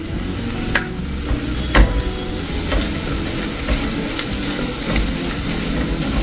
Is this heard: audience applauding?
no